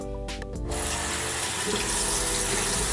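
A bathroom sink tap runs steadily while a face is rinsed, giving a loud, continuous close-up rush of water that starts after a few brief splashes and carries on to the end.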